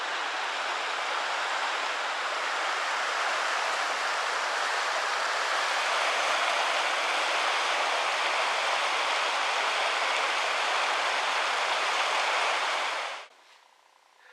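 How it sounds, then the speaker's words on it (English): A swollen creek running high after rain rushes steadily with a loud, broadband roar, nearby and unbroken for about thirteen seconds before cutting off abruptly. "The creek is really cooking."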